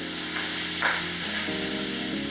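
Spanish rice with diced Rotel tomatoes sizzles steadily in a hot skillet, a continuous close frying hiss with a brief stir and a soft clatter partway through, no talk.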